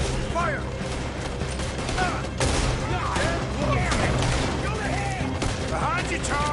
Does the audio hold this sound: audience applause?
no